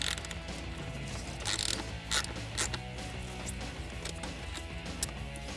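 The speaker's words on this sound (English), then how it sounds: "And we have 2 8mm bolts that are holding our fuel rail in place on the manifold. So we'll go ahead, we're going to loosen those." A ratchet works loose the 8mm bolts holding the fuel rail to the intake manifold on a 1987-2004 Mustang V8, giving steady close clicking and mechanical rattling with no talk.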